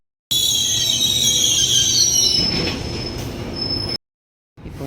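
GO Transit double-decker commuter train on the Stouffville line arriving at Milliken station in Toronto, a loud continuous rumble with high steady wheel squeal for several seconds, then a brief gap before more rolling noise resumes.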